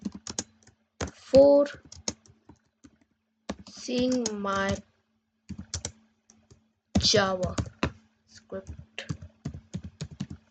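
Fast clicking keystrokes on a computer keyboard while a person types text, the sharp taps scattered between bursts of spoken narration.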